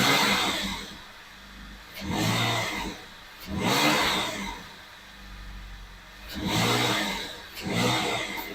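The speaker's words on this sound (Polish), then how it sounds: "I teraz patrzymy, jak dodajemy gazu." A BMW M54B30 inline-six running on LPG is revved in five separate swelling bursts, each rising and then falling back to a steady idle, heard up close with no talking.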